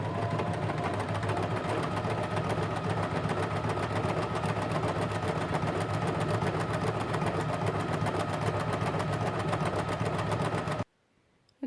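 An overlock sewing machine runs steadily, finishing a fabric edge with a dense, continuous mechanical whir, close and loud for about eleven seconds before stopping abruptly near the end.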